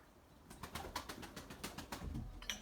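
Pigeons flap their wings in a quick series of sharp, fluttering bursts, with soft low coos underneath, heard close and fairly faint outdoors.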